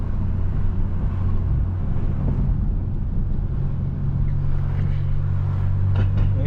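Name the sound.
8th gen Honda Civic Si engine while driving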